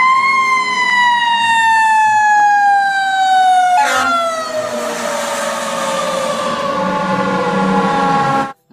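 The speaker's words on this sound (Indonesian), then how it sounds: "lihat di sini ada truk pemadam kebakaran" A loud fire truck siren wails steadily and close by, its pitch gliding slowly downward as it passes, with no talking.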